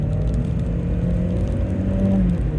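A 16-valve 1990s Volkswagen engine holds a steady, high-revving drone around 4,000-5,000 rpm with a whirring mechanical hum, loud and close, pitch rising slightly toward the end.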